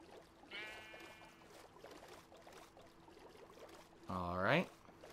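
In Minecraft, a loud, close sheep bleat rings out near the end, preceded by a fainter wavering bleat early on over a quiet, faintly watery background near a river.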